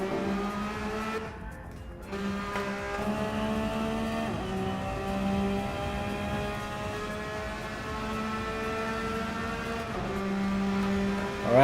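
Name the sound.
race cars doing laps in Gran Turismo 7 video game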